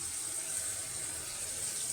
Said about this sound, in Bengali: এখন আমি এখানে একটু পানি দিয়ে দিলাম